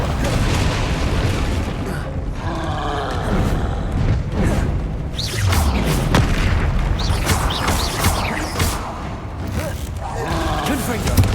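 Confringo spell explosions and spell combat in Hogwarts Legacy: a dense, continuous roar of booms and blasts, loud and close, with a voice shouting through it.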